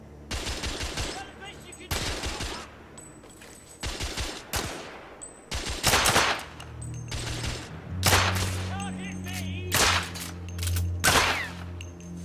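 Gunfire from The Order: 1886 rings out in repeated loud bursts of rapid shots separated by short pauses, with low game music humming underneath.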